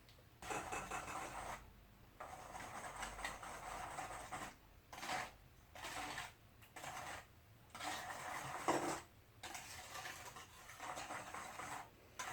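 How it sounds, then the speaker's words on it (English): Brownie batter is whisked in a bowl with quick scraping strokes, coming in separate bursts split by short pauses; the sound is faint and has no talking over it. "we're going to whisk it all together"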